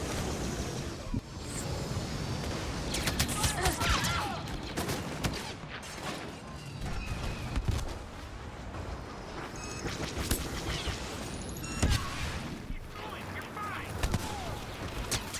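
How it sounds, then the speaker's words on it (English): Continuous gunfire in Star Wars Battlefront, a dense, steady barrage of blaster shots and battle noise at an even loudness across the whole stretch, with no clear pauses. "I just came around the corner and I'm already being shot at."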